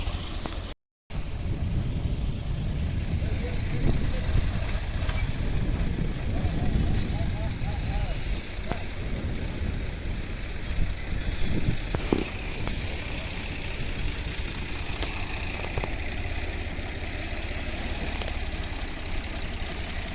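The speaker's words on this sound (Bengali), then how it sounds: "এখন ওই নৌকাটা আসছে, ওই নৌকাটা এপারে আসবে" A motor boat engine runs steadily at a river ferry ghat while the boat comes across to the near bank, its low drone continuous, with a person talking over it.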